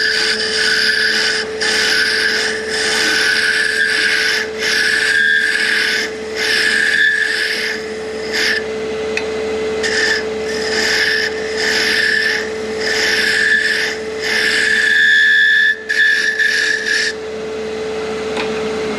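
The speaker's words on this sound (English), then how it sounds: "You can even go back at this point and use a spindle roughing gouge real lightly" A spindle roughing gouge cuts a wood sphere ornament lightly on a lathe, giving a steady raspy scraping in repeated pulses over a constant motor hum, close and fairly loud with no talk.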